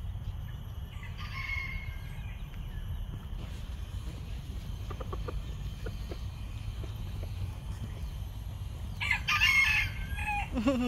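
Roosters crowing outdoors amid steady background noise, with a louder crow rising near the end over a faint ambient hum.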